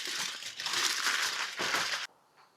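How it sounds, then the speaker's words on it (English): Aluminum foil crinkles and crumples loudly and close up as it is pulled off a smoker pan, a busy rustling burst that stops abruptly, with no voices. "go ahead and move this foil out of the way"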